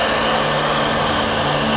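A heat gun blows a loud, steady roar of hot air onto faded KMX200 motorcycle plastics, close up and continuous with no pauses.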